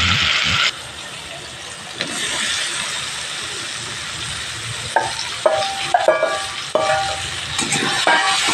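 Paneer frying in a pan of cooked spice masala, a steady loud sizzle with brisk scraping and rattling stirring strokes, especially toward the end, nearby and without talk.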